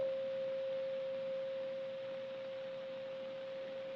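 A steady, pure 1 kHz tone from a loudspeaker fed by a microwave signal chopped 1,000 times a second hums continuously over faint background hiss, unchanging in pitch and fairly quiet throughout.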